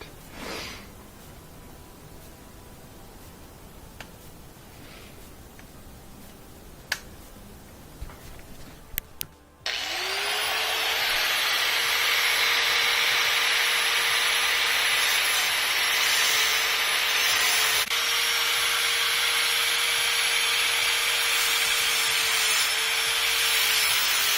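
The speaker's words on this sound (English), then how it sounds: "I use my angle grinder to carefully cut down into this metal without hitting the shaft." An angle grinder bites into a metal spindle on a washing machine motor, starting with quiet handling and clicks, then a loud, sustained, high whine of steady cutting that runs to the end.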